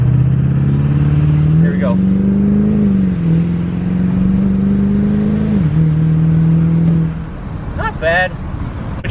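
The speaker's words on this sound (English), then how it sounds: "We'll just kind of semi-launch it. This is a big turbo though" Built two-wheel-drive Duramax diesel pickup with a big turbo launching and accelerating, a loud droning engine note climbing through gear changes for several seconds before fading, with someone speaking briefly at the start.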